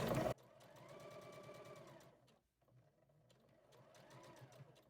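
A sewing machine stitches in a steady mechanical chatter, pausing briefly midway before running again, fairly quiet and alone after a short loud bump at the start.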